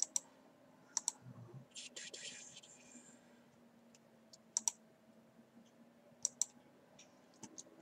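A computer mouse clicks sharply a handful of times at irregular intervals, single and paired taps over a faint steady hum, with a brief soft rustle between clicks.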